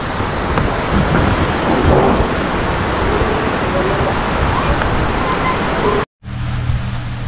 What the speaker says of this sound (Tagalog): bigla na naman lumakas yung ulan. Napakalakas.